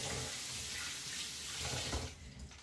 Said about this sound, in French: on lave du riz